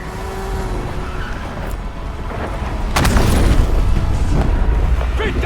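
Traffic in the video game Call of Duty Black Ops 7, a loud roar of engines and passing cars, swelling midway with a heavy rumble, whooshes and a tire squeal.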